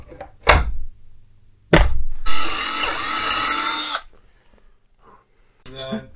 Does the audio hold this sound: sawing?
yes